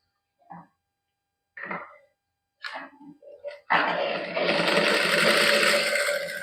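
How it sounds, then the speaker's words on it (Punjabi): A sewing machine stitches a school dress, starting with a few short separate bursts and then running as a steady, close, loud whir of continuous stitching. "ਹੁਣ ਦੂਸਰੇ ਤੇ ਵੀ ਇਸੇ ਤਰ੍ਹਾਂ ਸਲਾਈ ਲਾ ਲੈਣੇ ਆ"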